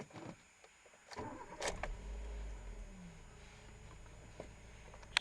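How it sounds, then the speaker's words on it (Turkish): A car that runs on petrol and LPG starting up, with a brief starter crank followed by a low idle hum, faint and fairly near, with no talk. "Ee, şimdi aracı çalıştırıyorsun."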